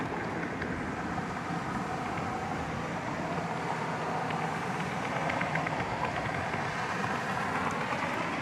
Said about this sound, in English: We got cars traversing the access road below us